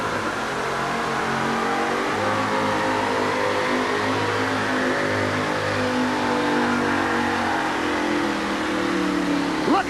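A Bigfoot monster truck at a 1988 USHRA event in Kansas City revs its engine loudly and continuously, a deep roaring drone rising and falling in pitch over crowd ambience.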